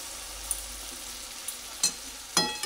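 Potatoes sizzle gently in a pan for kakrol malai curry, a soft constant frying hiss with a few brief stirring scrapes near the end, heard up close without speech.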